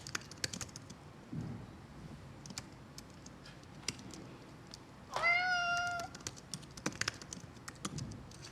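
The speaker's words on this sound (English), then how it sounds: "Meow." A cat gives one clear, drawn-out meow near the middle, close and fairly loud, set against soft keyboard typing and clicks before and after.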